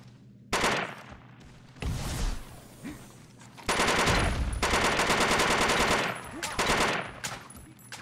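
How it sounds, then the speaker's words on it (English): Rapid automatic gunfire in the DeathGarden video game comes in several loud bursts of different lengths, crackling close by over game ambience. "I hear him shooting at me."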